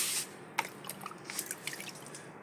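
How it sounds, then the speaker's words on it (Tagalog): Water is poured onto pechay seedlings, giving soft close drips and light splashes that patter irregularly at a quiet level, with no talking. "Lagyan din natin ng tubig ang ating pitsay."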